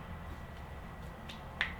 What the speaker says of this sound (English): I cracked my ring finger.